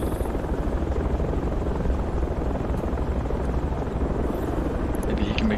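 A helicopter in the video game Project Reality gives a loud, steady rotor-and-engine drone that holds constant, close and unbroken, for the whole stretch.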